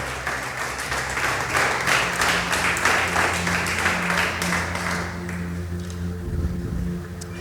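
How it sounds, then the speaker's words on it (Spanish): Congregation applause fills a church service, a steady wash of many hands clapping through the whole stretch, with low organ or keyboard tones sustained underneath. "Vamos a darle ese aplauso al Rey."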